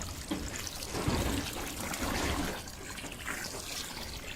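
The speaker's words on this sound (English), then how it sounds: "We've got the water filling up here." Water pours and trickles steadily as a container fills up outdoors, a close, fairly quiet and continuous splashing flow.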